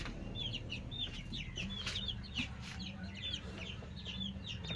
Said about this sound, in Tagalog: Gaya nito, alagang manok.